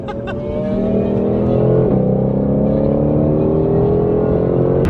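Supercars, a Koenigsegg among them, accelerate hard in a large roll race, a dense, loud wall of engine drone with rising tones that stays steady through the whole stretch, with no talk over it.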